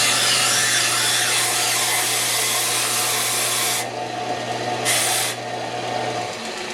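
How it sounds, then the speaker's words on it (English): A belt sander roars steadily up close, with a brief change in tone partway through as the wood is pressed and lifted against the belt. "I'm going to briefly hit this on the sander."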